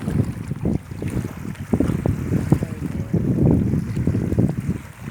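Steady wind buffeting a microphone outdoors on the coast at Ören, Burhaniye, Turkey, a continuous low rumble with gusty swells near water.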